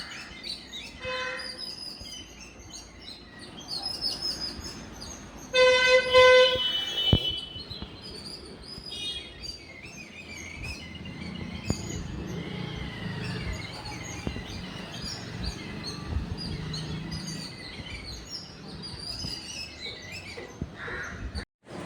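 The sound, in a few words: birds chirping, sparrows and parrots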